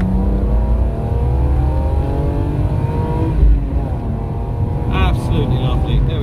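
A BMW E36 M3 with its 3.0 engine and manual gearbox revs up as it accelerates, a steady, loud drone with rising harmonics that carries on for several seconds, with someone talking over it.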